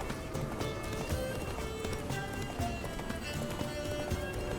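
Horse galloping in the video game The Witcher 3: steady rapid clip-clop hoofbeats running continuously over a busy game background, with faint voices underneath.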